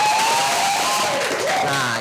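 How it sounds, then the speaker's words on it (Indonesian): Studio audience applauding and cheering during an Indonesian sports talk show about handball, a brief dense burst of clapping with whoops and crowd noise, some voices mixed in. "Tepuk tangan dong."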